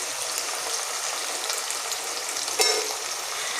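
Asafoetida (hing) sauteing in hot oil while potatoes with ajwain cook, a steady close crackling sizzle with one brief sharper spatter burst partway through.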